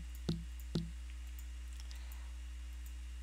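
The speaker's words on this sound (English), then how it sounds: "I'm clicking too fast" Two quick, close computer mouse clicks in the middle of a plant and tree care game session. Both are crisp and fairly faint, followed by quiet with a steady low hum underneath.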